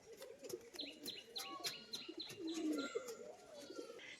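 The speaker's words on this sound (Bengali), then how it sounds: "নর পায়রার বাজি দেখুন" A white-green crested male pigeon coos during its display, with soft rhythmic cooing under a run of sharp repeated chirps from other birds nearby, fairly faint overall.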